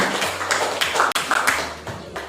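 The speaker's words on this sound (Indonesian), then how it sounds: "tepuk tangan untuk Ana" Students in a classroom mathematics lesson clap briefly for a classmate, a scattered, uneven patter of hand claps at close range with a few sharper individual claps and some room noise.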